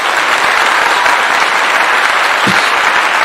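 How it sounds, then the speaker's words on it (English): Loud, steady applause from a crowd, dense continuous clapping filling the whole moment without letting up. "Let me give you a clap on that one."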